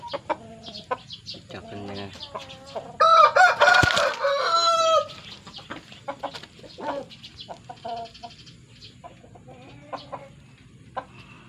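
A rooster crows loudly once in the middle, surrounded by scattered clucking and chirping from other chickens, including young bowl chickens (ayam mangkok).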